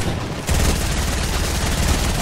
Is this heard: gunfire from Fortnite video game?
yes